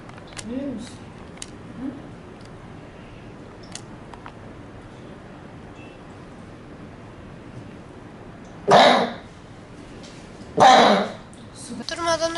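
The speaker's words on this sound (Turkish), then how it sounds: "Durmadan öksürüyorum." A person suffering from a persistent coughing fit lets out two loud, harsh coughs a couple of seconds apart, after a stretch of quiet room sound with faint voices.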